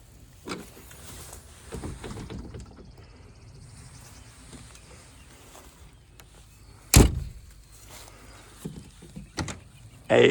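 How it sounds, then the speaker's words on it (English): The curbside compartment door on a 2023 Ford E450 McCoy Miller Type III ambulance is handled, with soft latch and handling noises and one sharp slam partway through, then a final thump at the end. "curbside door"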